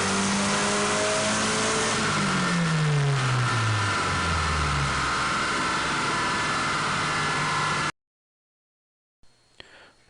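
A turbocharged car with an AEM Tru-Boost controller running 12 to 13 psi accelerates hard in third gear. The loud engine drone climbs steadily in pitch for about eight seconds, then cuts to silence and a faint tail.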